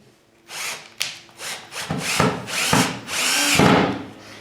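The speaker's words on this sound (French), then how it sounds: "nous allons d'abord mettre les vis, les petits boulons" Small bolts being screwed into a reinforcement shelf with a power driver, a series of short whirring bursts that grow longer, close and fairly loud with no speech.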